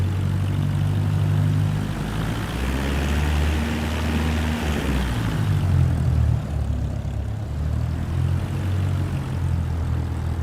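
Propeller aircraft engine from Microsoft Flight Simulator 2024, a steady low droning hum with a throbbing tone that holds at an even, loud level throughout, with no talk over it.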